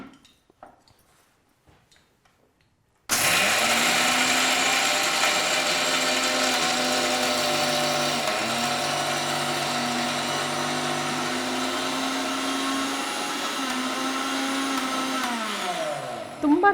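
A mixer grinder whirs into life after a quiet start, grinding rice flour batter with a loud, steady motor drone that holds for over ten seconds and dips slightly in pitch toward the end.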